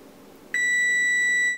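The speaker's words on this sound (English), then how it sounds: "That was the buzzer." Kitchen timer buzzer goes off after an energy bar bake, a single loud, steady electronic beep held for about a second after a faint quiet room.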